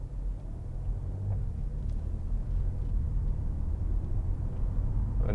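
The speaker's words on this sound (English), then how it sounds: "beautiful engine sound." An Audi S4 Avant 3.0 TFSI V6 with S tronic gearbox and about 89,700 miles cruises steadily, its engine a low, even drone with road rumble and no speech.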